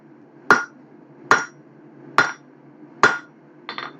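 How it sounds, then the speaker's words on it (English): A hammer strikes the steel corners of a metal rose, with four loud, evenly spaced ringing blows and then a lighter double tap at the end. "hammer back on our corners."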